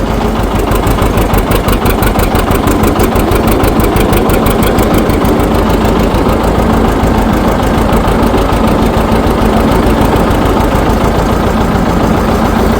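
A smooth-running John Deere 730 tractor engine runs steadily and loudly, its even chugging rhythm close by and unbroken throughout.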